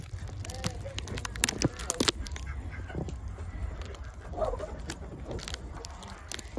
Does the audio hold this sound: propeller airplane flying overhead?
no